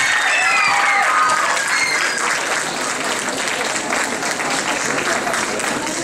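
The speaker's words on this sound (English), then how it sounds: "Give her another big round of applause." After a dance performance at a Gurudev Jayanti celebration, an audience claps in a sustained burst of loud applause, with a voice speaking over it near the start.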